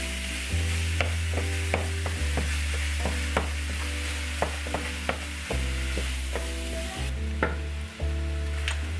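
Ground meat frying in a pan for a veggie-packed shepherd's pie, steady close sizzle with repeated scraping and clacking as a utensil breaks it into small pieces.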